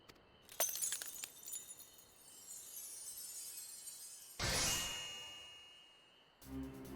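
Glass shattering effect from Final Fantasy XIV: a bright burst of breaking glass near the middle, set among earlier dings and chimes and a steady glittery shimmer, then a short low thud at the end.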